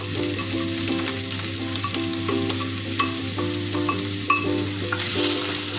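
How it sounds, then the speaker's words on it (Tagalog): Chopped onion sizzles and crackles steadily in hot olive oil in a pan as it sautés, with occasional stirring clinks and scrapes over a constant close frying hiss. "igigisa muna natin ang ating onion. Mga half cook lang siya."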